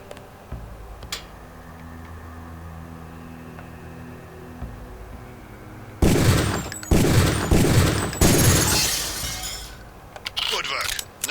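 Rifle shots ring out at a firing range in the video game Deus Ex, a dense burst of loud, sharp reports that follows a quiet stretch of low hum and is itself followed by a few scattered further shots.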